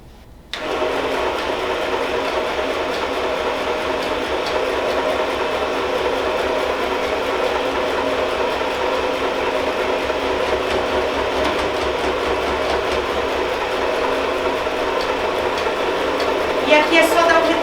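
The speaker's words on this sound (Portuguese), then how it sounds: "eu vou passar uma costura reta aqui em cima, nessa parte da alça, unindo um tecido com o outro" Sewing machine running a straight seam across the handle of a double-sided fabric tote bag: starts abruptly, then a loud, continuous close whirring hum that holds steady for over fifteen seconds, with a brief change at the end.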